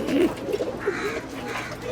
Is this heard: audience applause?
no